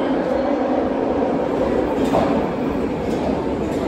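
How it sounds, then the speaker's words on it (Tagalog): A train pulls into a station in Osaka with a steady, loud rumble and rolling rail noise that fills the whole stretch. "Yan na ang train."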